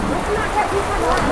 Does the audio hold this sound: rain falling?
yes